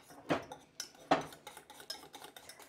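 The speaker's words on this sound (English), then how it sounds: "So we're going to whisk this in" A whisk clinks against a pan while milk is worked into an egg chowder, a few sharp metallic knocks followed by lighter irregular taps, close but quiet with no talking.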